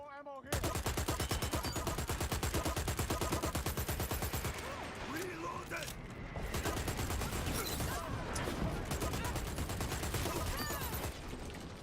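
Continuous rapid automatic gunfire in the shooter Dirty Bomb, loud and close, hammers on without pause for nearly the whole stretch, with faint talk underneath.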